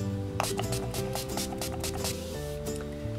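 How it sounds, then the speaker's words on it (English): Makeup setting spray is misted in a final round before mascara and lipstick: about five short, airy spritzes spaced through the clip, close to the mic and partly under steady background music. "final round of setting spray, which I do before my mascara and lipstick"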